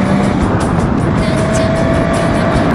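A Kawasaki 500SS Mach two-stroke triple motorcycle sits idling nearby, a steady, loud, unbroken engine drone with slightly uneven running and no talking over it.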